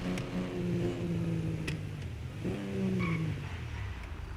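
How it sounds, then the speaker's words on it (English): A car engine in GTA 5 Online revs steadily, its tone rising and falling through gear changes, loud and continuous with no voices over it. "This car has one of the best engine sounds I've ever heard."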